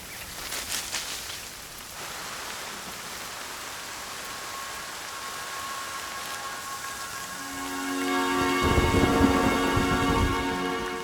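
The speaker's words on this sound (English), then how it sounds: "in the monsoon, the rain is torrential and persistent" Steady, heavy monsoon rain pours throughout in a forest, a continuous wash of noise, joined near the end by a low rumble and tonal droning sounds.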